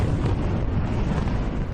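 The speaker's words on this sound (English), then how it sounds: "A deafening explosion at this aluminium factory after a nearby river burst its banks" Explosion at an aluminium factory during river flooding, a loud, sustained deep roaring rumble heard from a distance that fills the whole stretch without letting up.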